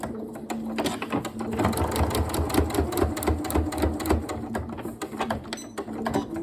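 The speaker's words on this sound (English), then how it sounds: "A couple of stitches and then a back stitch" A sewing machine stitches a ghost-shaped cushion in a rapid, close mechanical chatter, with a brief reverse for a back stitch, running continuously without speech.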